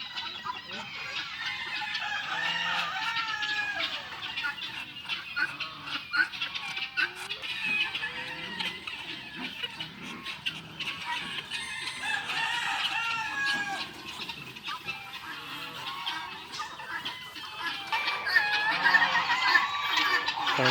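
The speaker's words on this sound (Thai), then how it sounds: "พามาเบิ่งที่การเลี้ยงเป็ดเลี้ยงไก่แบบธรรมชาติเนาะ" Chickens and ducks in a coop cluck and squawk constantly, with a rooster crowing among them, a busy close chorus of fowl calls running throughout with no talking.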